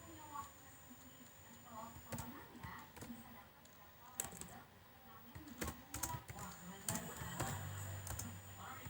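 Keys clack on a computer keyboard as Python code for a magnetic susceptibility calculation is typed, with irregular bursts of clicks and a few louder strikes under a quiet voice speaking.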